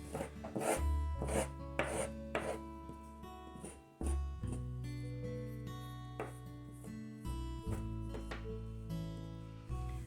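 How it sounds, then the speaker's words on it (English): A brush sweeps downward over macrame cord on a leaf from a craft-kit autumn garland. It makes close, soft, repeated rubbing and rasping strokes in uneven bursts with short pauses. "So I'm guessing I kind of want to brush these downwards now."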